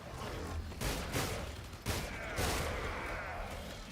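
Faint gunfire from a weapon in a video game, a few soft bursts standing out from a low, steady background.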